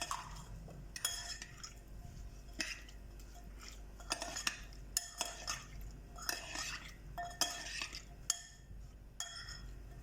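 Chicken shawarma marinade is stirred with black pepper, salt and crushed red chilli using a metal spoon in a bowl, giving quiet, irregular clinks and scrapes with no talking.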